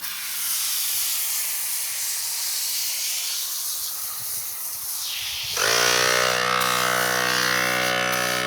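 An IK e-Foam Pro 2 electric foamer sprays tire cleaner mixed 4-to-1. A soft airy hiss comes first, then a louder buzzing motor whine with a sharp spray hiss starts and runs steadily close by.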